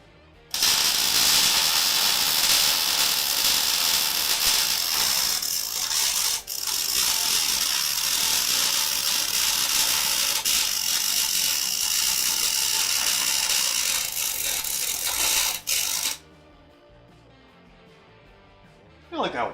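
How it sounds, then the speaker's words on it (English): A wire-feed welder sputters and crackles steadily while welding downhill, with the wire speed set too high or too low so the wire melts too fast; the dense, loud crackle runs about sixteen seconds, briefly dipping once, then stops abruptly, leaving a quiet tail. "It's splappity splapping, which means it's melting the wire too fast"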